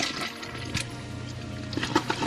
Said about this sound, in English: That thing can flush a tie with ease